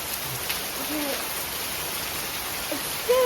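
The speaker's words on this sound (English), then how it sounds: "It's still raining here because now there's heavy rain." Heavy monsoon rain falls steadily in Goa, a dense, even hiss of downpour with faint voices briefly audible beneath it.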